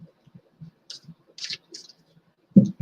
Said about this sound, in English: So we'll shuffle the deck.